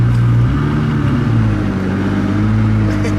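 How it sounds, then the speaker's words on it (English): Ferrari F50 engine running close by, a steady loud mid-pitched drone with slight shifts in revs, with no voices over it. "I'm driving the Ferrari"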